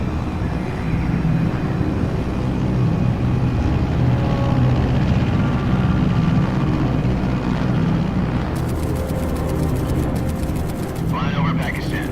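Aircraft flight noise from the video game Metal Gear Solid 3: Snake Eater, a dense, steady engine roar that stays loud for the whole stretch, with faint extra effects near the end.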